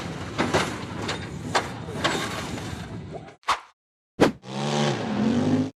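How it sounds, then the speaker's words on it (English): An off-road buggy revs hard as it claws up a steep, dusty hillside, its engine roaring loud and continuous for about three seconds, then two sharp bursts, then a renewed strained drone after a gap. "The red buggy tried to accelerate hard up a steep, dusty slope"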